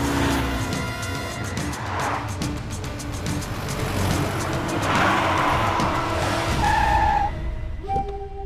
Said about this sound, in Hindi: बीच रास्ते में गाड़ी क्यों रोक दी तूने?